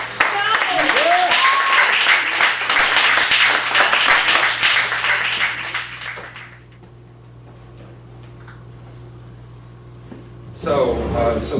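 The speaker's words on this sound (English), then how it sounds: "give it up for a phenomenal performance from Wayne Allen Johnson." Loud audience applause and cheering fill the first six seconds, then fade to a quiet room hum before a brief burst of noise at the end.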